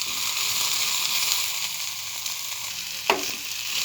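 Tomato chutney fries in a pan with a continuous close sizzle and crackle, plus a brief stirring scrape near the end.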